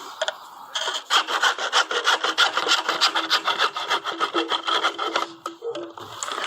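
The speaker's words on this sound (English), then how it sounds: "Hacksaw works pretty good." A hacksaw cuts through a downspout in fast, rhythmic back-and-forth strokes, close and raspy, a steady run of scraping pulls with no talk.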